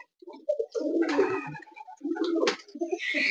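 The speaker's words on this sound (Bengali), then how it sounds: "এই যে লতিফ ভাইয়ের বেস্ট কবুতর গররা" Pet pigeons of a fancy breed cooing close by in soft, throaty bursts with short pauses, alone without any talk.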